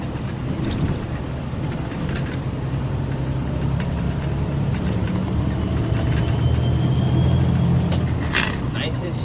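A vehicle engine drones steadily and loudly as the driver shifts from eighth into ninth gear, using a gear shift stick that had come out of alignment. The low rumble runs unbroken throughout with no clear break at the shift.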